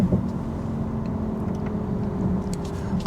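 A 2021 Genesis GV80 Prestige cruising on the highway gives a steady, continuous low road and engine hum with faint tire rumble, heard alone from inside the cabin.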